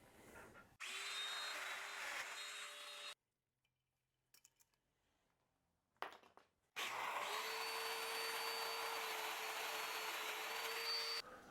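A domino joiner cuts mortises for attaching ottoman table legs to the top, a loud steady motor whine in two long bursts split by a quiet gap with small handling clicks.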